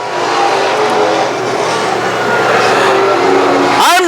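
A pro stock race car accelerates at Can-Am Speedway, its engine roaring loudly and steadily, then climbing sharply in pitch near the end as the throttle opens.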